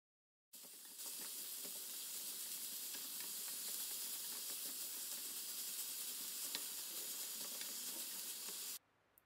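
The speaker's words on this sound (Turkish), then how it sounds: "Kıyma ile beraber güzelce bunu da kavuruyorum" Minced meat and onions frying in a pan give a dense, even hiss that starts abruptly and holds steady for about eight seconds before cutting off, close and fairly quiet, with no voices.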